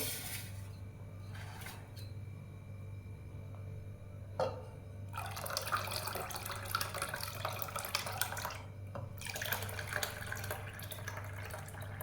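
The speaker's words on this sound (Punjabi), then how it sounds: "ਆਪਾਂ ਵਿੱਚ ਪਾਣੀ ਪਾ ਦਵਾਂਗੇ ਜਿੰਨੀ ਵੀ ਛਿੱਡੀ ਹੈ ਸਾਰੀ ਦੀ ਸਾਰੀ ਆਪਾਂ ਨੇ ਕੱਢ ਲੈਣੀ ਹੈ" Water runs and splashes into a cooking pot to rinse out the browned ghee residue left from making ghee from cream. A steady low hum is heard throughout, the pour grows louder in gurgling bursts over the second half, and no one speaks.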